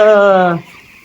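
A single loud, close call from a poultry-farm chicken, a drawn-out harmonic cluck lasting about half a second before fading into quiet background.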